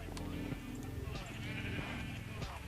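Sheep on a Minecraft sheep farm bleat repeatedly in the video game, several overlapping nasal bleats close by and fairly loud, with no pause between them.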